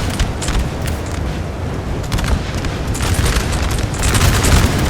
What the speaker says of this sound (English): The artillery just pounding it hard here.